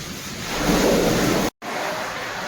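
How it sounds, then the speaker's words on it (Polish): Sea waves wash onto the shore with a broad rushing hiss and wind buffeting the microphone, loud and close, briefly cutting out before resuming. "Ja muszę uciekać, bo tu woda."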